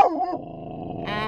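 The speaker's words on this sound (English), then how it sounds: "And that's my dog. She's a dog." A dog gives a short, low, throaty growl with a brief bark-like onset, close and loud, with no speech over it.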